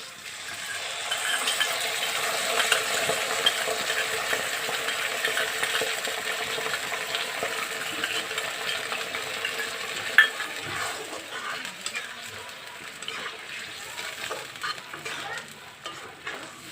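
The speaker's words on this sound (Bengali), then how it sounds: "সয়া সস নিয়েছি, টমেটো কেচাপ আর রেড চিলি সস। এখন আমি এর মধ্যে ঢেলে দেবো।" Soy sauce, tomato ketchup and red chilli sauce go into chilli chicken frying in a pan, giving a steady close sizzle with scraping stir sounds and a brief clink midway.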